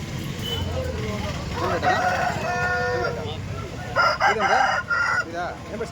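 An Andhra breed rooster crows loudly nearby, with clucking from other fowl around it, while people talk in the background.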